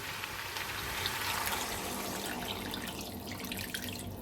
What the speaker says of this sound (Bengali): এবার আমি এর মধ্যে জল অ্যাড করে দিচ্ছি।